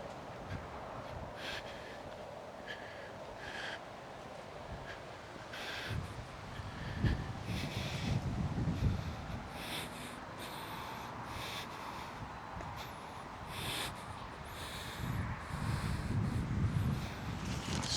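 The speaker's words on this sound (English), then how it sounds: "So windy." Gusty wind buffets the microphone outdoors while checking mailboxes, in low rumbling surges, with faint rustling and short bursts of higher noise throughout.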